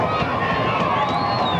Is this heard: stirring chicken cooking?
no